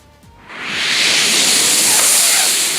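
A voice imitating sea waves on a shore: a rising breathy whoosh that swells into a sustained hiss, loud and close.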